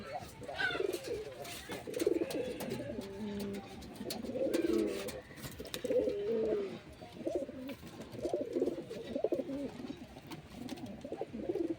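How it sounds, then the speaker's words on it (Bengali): Pigeons in a small backyard loft of good-breed birds coo repeatedly in low, throaty rolling phrases, moderately close and fairly steady throughout, with soft rustling and background noise around them. "কবুতরটা দেখুন"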